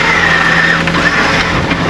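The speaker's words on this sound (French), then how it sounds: "je ne veux pas forcer sur le moteur. Il a 1300 tours minutes" Sailboat's inboard engine running steadily at about 1200 to 1300 rpm while motoring at sea between Sicily and Italy, a loud continuous drone with a low hum and no talk over it.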